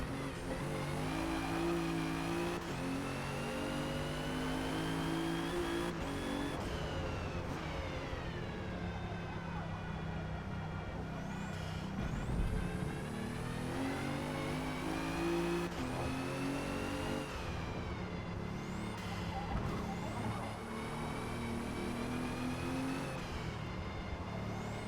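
A 2017 Alfa Romeo Giulia's engine races around the Nurburgring in Forza Motorsport, droning loud and steady throughout with rising and falling revs as gears shift, no voices heard.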